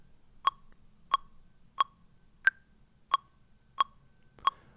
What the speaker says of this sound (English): Some people call it a click track metronome.